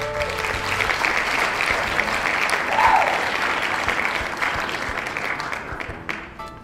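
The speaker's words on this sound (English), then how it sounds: "Quick round of applause, by the way, for my lovely assistant" A crowd applause effect plays on its own, a sustained wash of many hands clapping that holds steady for several seconds, then thins and tapers off toward the end.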